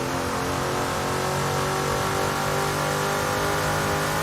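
A race car engine at Bathurst during an international race meeting at the Mountain roars loud and close, held at high revs near the limiter in a dense, steady drone.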